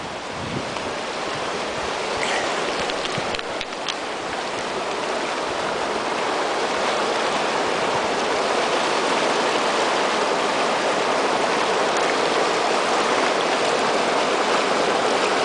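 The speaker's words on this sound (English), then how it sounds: "Fast moving water." Fast-moving stream water in Denali rushes continuously and loudly, a steady broadband roar that stays constant throughout with no talking.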